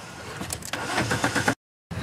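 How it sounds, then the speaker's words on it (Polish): A Fiat Marea's engine is cranked over in a close, loud start attempt, with a rough churning starter that builds and sputters before cutting off abruptly. "Czy marea odpali?"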